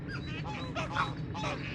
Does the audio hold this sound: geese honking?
yes